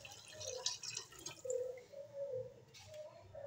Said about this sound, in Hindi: अब हम इसमें डालेंगे 3 गिलास पानी।